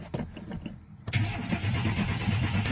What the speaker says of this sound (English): Okay, first fire up of the carburetor.